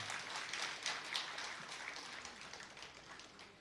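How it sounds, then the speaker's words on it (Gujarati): Elected members at a party conference rally in Amreli applaud as a crowd, a continuous wash of clapping that swells early and slowly fades, heard from a distance. "ખાલી ચૂંટાયેલા બધા જ સભ્યો તાળી પાડે."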